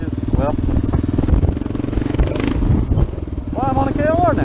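A Kawasaki KLR 650 motorcycle rides along with a loud, steady single-cylinder engine drone and wind rumble close up, while a rider talks over it throughout.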